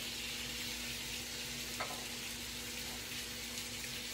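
Chopped onion sizzles steadily in a hot pan beside blackened red snapper, a continuous close, even crackle with a faint click partway through and no talking.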